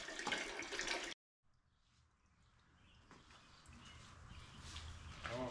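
A tap runs as hands are rinsed, a loud gush of water for about a second that cuts off abruptly, followed by quieter, uneven splashing and rustling.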